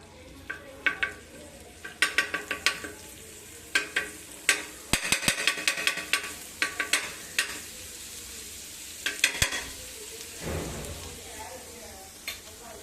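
Garlic frying in ghee in a pan for garlic bread: a steady close sizzle broken by sharp scraping and clattering stirs, with a few bursts of rapid clinks from the utensil against the pan.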